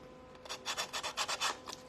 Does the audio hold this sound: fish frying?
no